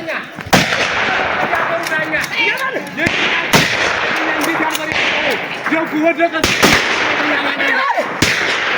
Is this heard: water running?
no